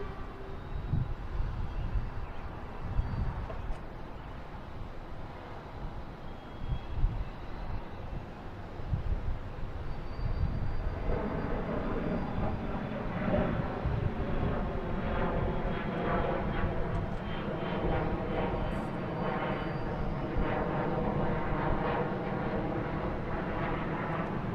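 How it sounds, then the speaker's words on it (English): A Delta Embraer E175 regional jet takes off at Indianapolis, starting as a faint, uneven rumble that builds after about ten seconds into a steadier, louder engine roar with a rising whine that carries to the end. "we got Delta taking off at Indianapolis, flight 5616, and E175."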